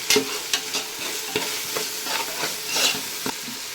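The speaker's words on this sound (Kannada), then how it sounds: "ಶುಂಠಿ ಬೆಳ್ಳುಳ್ಳಿ ಪೇಸ್ಟ್ ಹಾಕಿದ ಮೇಲೆ ಅದ್ರ ಹಸಿ ವಾಸನೆ ಎಲ್ಲ ಹೋಗಿ ಈ ರೀತಿ ಎಣ್ಣೆ ಬಿಟ್ಕೊಳ್ತಾ ಇದೆ" Ginger garlic paste sizzles in hot oil for a Donne biryani, a steady frying crackle broken by repeated scraping stirs of a spoon in the pan, close and fairly loud with no talk.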